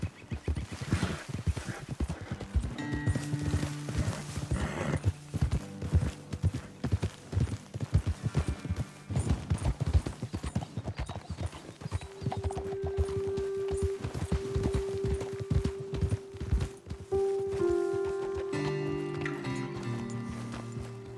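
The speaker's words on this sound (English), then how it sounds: "Let's dismount here. Best leave the horses back a bit." Horses' hooves clip-clop steadily on a trail in the video game Red Dead Redemption 2, continuous and moderately loud under background music and tones, with no talking.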